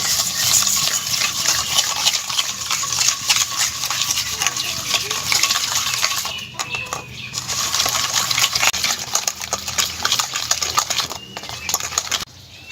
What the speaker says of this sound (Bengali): এই সবগুলো উপকরণ আমি ভালোভাবে মিশিয়ে নেব।